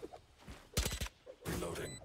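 Shooter video game gunfire: a burst of several sharp shots near the start, then a denser loud volley toward the end, with brief talk in between.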